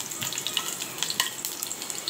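Tomato and garlic sizzle and fry in a hot pan, a steady crackling hiss with small popping bursts throughout, close and fairly loud with no talking.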